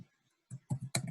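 Mouse clicks on an OK button at a computer, a few sharp, close clicks after a short pause, the last ones in a quick cluster, with no talking.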